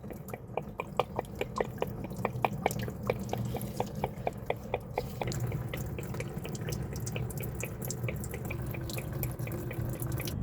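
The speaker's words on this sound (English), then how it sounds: "And just let that coolant come out." Coolant draining from a Mazda 2.5L engine during a water pump job, falling as a steady series of close, distinct drips and trickles that continue at an even rhythm throughout.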